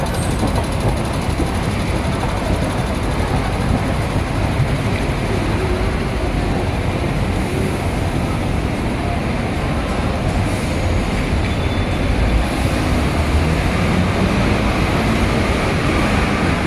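A train rumbles steadily at a Hong Kong station, a continuous broad roar of rail noise with a faint high hum above it, constant and close throughout with no talking.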